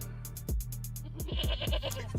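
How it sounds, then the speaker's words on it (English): A goat bleats in a repeated run of short, loud, wavering cries, dropped in as a sound effect with no talk over it. "This goat sound effect is going to get used too much with all these wins"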